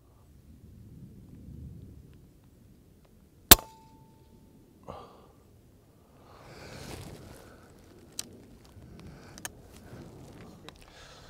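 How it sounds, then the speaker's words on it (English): Air rifle shots from a Daystate Redwolf FAC firing slugs at 100 yards outdoors in a light breeze: several sharp, distinct cracks spaced a second or more apart, with quiet wind and ambient noise between them. "I've just done 5 shots at 100"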